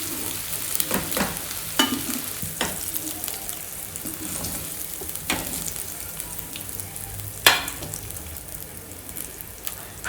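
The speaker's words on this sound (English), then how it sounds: "Fry until light, it changes its color to light golden color." Baby potatoes frying in oil until light golden, a steady close sizzle throughout with occasional sharp crackles and a few clinks of a utensil, no voices.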